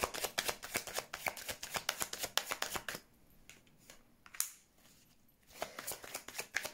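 Tarot cards being shuffled and laid out: a run of rapid riffling flutters and crisp slaps close by, then a quieter stretch of soft card handling with a single sharp snap, before brisk shuffling resumes.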